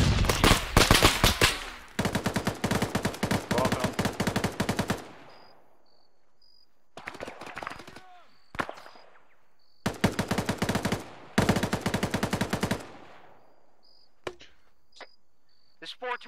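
Gunfire in ARMA 3 during a trench assault: several long, loud bursts of automatic fire, separated by pauses, with scattered single shots, faint chirps and brief voices in between.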